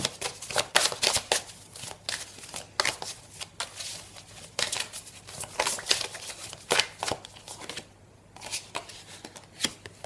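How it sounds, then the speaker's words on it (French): Two tarot decks being shuffled together, a steady run of close, crisp riffling bursts and card slaps with a brief pause near the end. "Je vais mélanger deux jeux"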